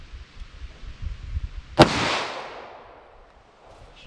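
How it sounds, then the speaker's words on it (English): A single sharp gunshot from a .38 Special revolver firing a Silvertip round at an outdoor wood penetration test, one loud crack followed by a long fading echo, preceded by faint low rumbling. "so I'm going to shoot another silver tip just to make sure I have one caught."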